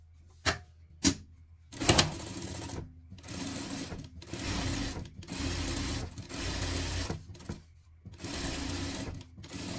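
A sewing machine stitching the seam of a pet harness, running in several steady whirring bursts of a few seconds each with short pauses between, preceded by a couple of quick clicks, close and fairly loud with no talk.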